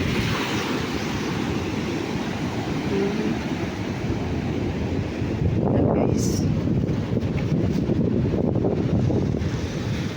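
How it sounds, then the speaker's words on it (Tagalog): High ocean waves surging and crashing at a shoreline, a continuous loud roar with a stronger breaking wash midway, buffeted by wind noise on the microphone. "Napakataas po ng alon."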